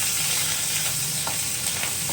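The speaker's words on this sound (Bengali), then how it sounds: "বেশি করে তেল দিয়ে এবারে কড়াইয়ে ভাজা ভাজা করব" Dried shrimp fries with garlic, green and dried chillies and onion in plenty of hot oil in a wok, giving a steady, close, bubbling sizzle with no voices.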